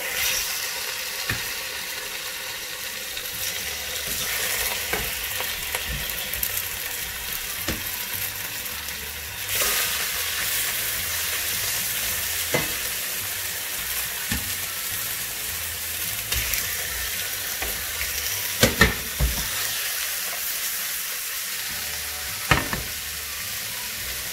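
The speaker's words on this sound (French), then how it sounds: "Dans une poêle anti-adhésive, je vais poêler les escalopes de foie." Calf liver escalopes fry in a non-stick pan with a steady, continuous sizzle, broken by occasional sharp clicks and scrapes of handling, with no voices.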